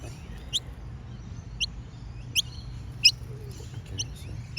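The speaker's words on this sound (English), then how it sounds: "this little family of noisy miners, is coming down for it" Noisy miner birds call from trees beside a road, giving a series of short, sharp, high chirps spaced about a second apart over a low steady hum of background noise.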